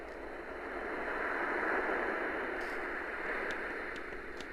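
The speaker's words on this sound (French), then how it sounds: "Donc là c'est le bruit des vagues." Ocean wave sounds played through a small speaker on a baby night light, a steady, soft broadband wash that swells gently and eases off, faint and continuous with a few light ticks near the end.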